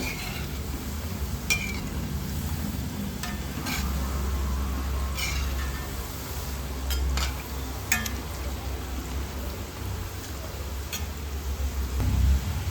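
Semolina sweet balls deep-fry in a pan of oil, giving a steady soft sizzle and hiss with occasional light clinks of a metal utensil against the pan.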